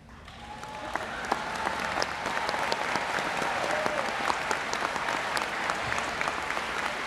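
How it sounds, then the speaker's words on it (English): A new-student convocation audience at Marian University breaks into applause that swells within the first second and holds as a dense, steady roar of clapping in a large room, with a few faint voices mixed in. "Let's wrap these last few with a big applause"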